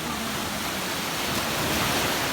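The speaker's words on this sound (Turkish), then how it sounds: "Denizde bayağı dalgalanmış ama harika yani." Sea waves surge onto the shore at Kuşadası, a loud, steady broadband wash with no break, rough water rolling in close by and no voices.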